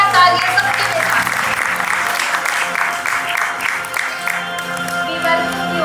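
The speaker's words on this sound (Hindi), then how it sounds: "जोरदार तालियां सबके लिए साथ।" A large audience applauds loudly and steadily at an awards ceremony in a Delhi hall, the clapping dense and continuous with no breaks for the full stretch.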